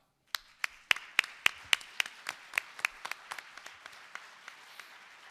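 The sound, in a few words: audience applauding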